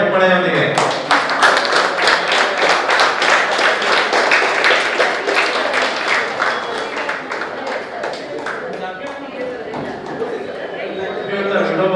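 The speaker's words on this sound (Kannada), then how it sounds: "ಮತ್ತೆ ಜೋರಾದ ಚಪ್ಪಾಳೆಯೊಂದಿಗೆ" Loud, dense applause fills a hall at a co-operative society's general body meeting, many hands clapping steadily for the full length with crowd chatter and a voice underneath.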